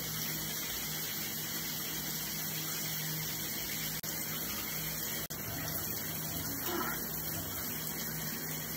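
Shower water runs steadily while hair is being rinsed in a bathroom, a continuous close hiss of spray with no talking.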